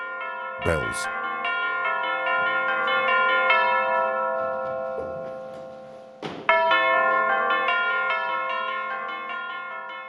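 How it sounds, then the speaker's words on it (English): Tubular bells are struck in a recording studio. Two sharp strikes, one early and one near the end, each ring out into long, bright, shimmering tones that sustain and slowly fade, with no voices. "she put down some tubular bells."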